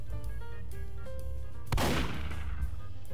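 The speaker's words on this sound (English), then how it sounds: "I just hear a gunshot in the distance." A single distant gunshot in a video game, a sharp crack followed by a rolling echo that fades over about a second, over steady background game music.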